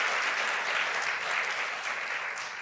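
Audience applause after a call to celebrate refugee resettlement, a dense, steady wash of many hands clapping that holds at an even level throughout, with no voices over it.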